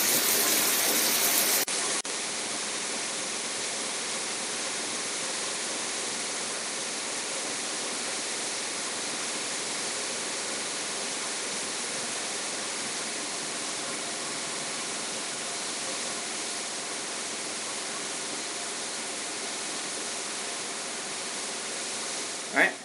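Shower water pours steadily onto a Thrunite T10T flashlight during a rain test, a constant loud hissing rush with no break and a short knock at the end.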